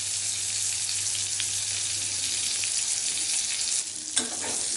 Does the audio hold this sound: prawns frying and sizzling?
yes